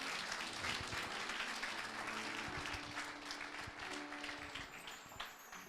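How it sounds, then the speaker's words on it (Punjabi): A church congregation applauding during a sermon, a sustained round of many hands clapping at moderate distance that tapers off slightly toward the end. "ਜ਼ੋਰ ਨਾਲ ਤਾਲੀ ਵਜਾਈਏ ਇੱਕ ਵਾਰੀ"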